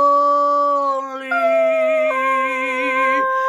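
A dog howls along to a sung tune, drawn-out sustained wavering howls with shifting pitch, loud and close, alongside a singing voice.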